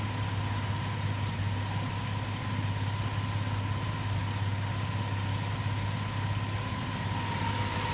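A 2004 Ford Explorer with a defective alternator idles steadily, a constant low engine hum with a faint whine running throughout, close and even, with no talking.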